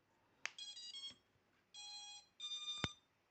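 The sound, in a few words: five arming beeps from a drone's motors at battery connect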